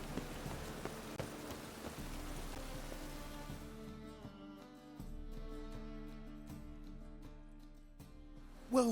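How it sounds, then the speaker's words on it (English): Steady rain falls in The Witcher 3, a soft continuous patter with sparse drips over a low musical drone, the hiss thinning midway and a brief louder knock at the very end. "I like rain."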